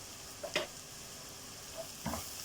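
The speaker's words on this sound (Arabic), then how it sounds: "البصله بتاعتنا بدات تدبل اهي تتشوح" Onion and minced garlic sauté in a pan with a faint, quiet sizzle, broken by two brief scraping stirs about a second and a half apart.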